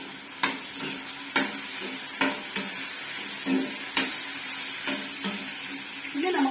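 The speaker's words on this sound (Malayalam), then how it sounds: "മഞ്ഞൾപ്പൊടി ഇട്ടതിന് ശേഷം നമ്മളൊന്ന് ഇളക്കണം." Turmeric powder being stirred into an eggplant and okra curry frying in a pan: a spoon scrapes in a string of sharp, uneven strokes over a steady close sizzle, with no talking.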